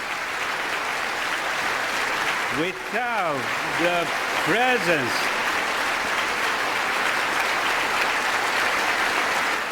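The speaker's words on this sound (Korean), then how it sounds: "박수가 이어져서 연설을 못합니다." A large audience keeps up loud, sustained applause through the Prime Minister's speech in America. A voice cuts in briefly partway through, and the clapping continues steadily around it.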